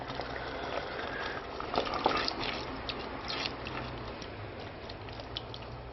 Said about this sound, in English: As you can see it's bubbling a little bit away